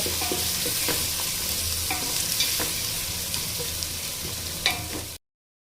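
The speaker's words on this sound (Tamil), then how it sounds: "நல்லா ஃப்ரை ஆகட்டுங்க" Chopped onions fry in oil for prawn biryani, a loud continuous sizzle close by with repeated spatula scrapes and taps against the pan.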